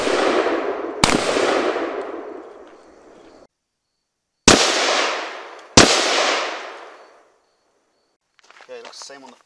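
M855 green tip rifle rounds fired at a Shot Stop Level III special threat armor plate outdoors, three sharp, loud reports, each followed by a long ringing echo that fades, and a voice briefly speaks at the end.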